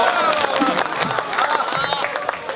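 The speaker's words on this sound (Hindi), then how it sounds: "एक बार इनके लिए जोरदार तालियां बजाओ।" Crowd applause at a Hindi comedy poetry gathering, dense and steady clapping mixed with cheers and crowd voices throughout.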